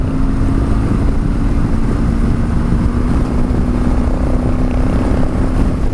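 An off-road adventure motorcycle built for round-the-world travel, engine droning loud and steady at high speed with a constant tone and heavy wind rush, no voices.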